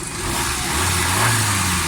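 Suzuki Alto 1000cc car engine, recently tuned with a China-made carburetor and a new spark plug, running close by with a steady hum that rises slightly in pitch partway through, as if revved a little.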